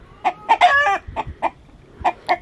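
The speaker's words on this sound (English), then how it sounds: "if you ever hear a rooster doing this, it's because he's doing his job and drawing the attention away from the hen" A rooster repeatedly sounds a sharp warning call, clucking and squawking in short bursts at close range to draw a predator away from the hens, with a brief run of rapid calls near the start and spaced single calls after it.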